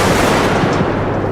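Gunfire from the compact SG9X in the shooter game Bodycam, a dense, loud continuous burst of shots filling the whole moment with no pauses or voices.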